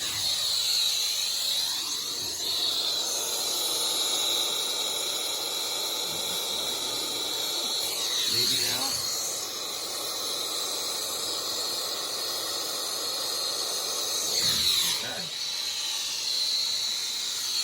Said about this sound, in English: you hear all that steam right there